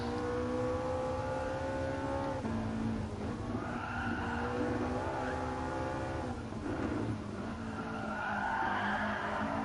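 Road car in the GT Sport video game, tires skidding as its tail slides out: a loud, continuous engine drone with sustained tire squeal and shifting pitch, heard close and without pause.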